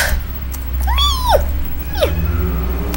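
A person imitates a cat with two drawn-out, wavering meows, the first longer and louder, the second shorter, heard close over a steady low background hum during a Roblox game.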